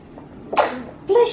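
A sharp sneeze bursts out, followed moments later by a second, shorter sneeze, both close and loud against a quiet room.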